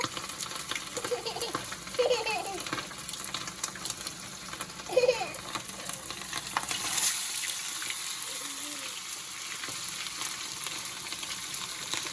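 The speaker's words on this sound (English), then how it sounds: "It's sizzling." Fish fries in hot oil with a faint, steady crackling sizzle, interrupted by a couple of brief voices and clatters before settling into quieter frying.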